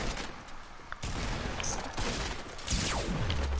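Gunfire from the video game Fortnite: several sharp shots crack out over a steady background of game noise, with a louder burst near the end.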